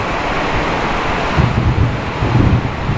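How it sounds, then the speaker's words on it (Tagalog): Heavy, steady roar of typhoon downpour mixed with gusting wind buffeting the microphone at a pig farm, loud and continuous with low rumbling surges. "Yun yung ulan mga buddy, malakas talaga. Although pati hangin oh"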